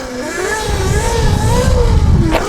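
An electric dirt bike pitbike, 13 kW 84V, ridden with a slightly loose chain, loud whining motor rising and falling in pitch with a grindy rumble underneath, close and continuous.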